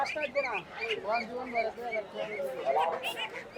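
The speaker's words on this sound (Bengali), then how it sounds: "এই যে এখানে দেখতে পাচ্ছি অসংখ্য হাঁসের বাচ্চা" A cluster of ducks and ducklings quacks and chatters continuously up close at a village poultry market in Mirzapur, Gazipur, many overlapping calls forming a busy, lively flock sound.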